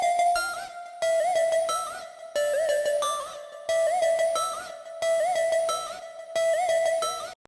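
A reFX Nexus synth layer in an Ableton Live track plays alone as a bright, harmonically rich melodic phrase. Notes sound in rhythmic bursts with short pitch bends and brief gaps between phrases, fairly quiet overall.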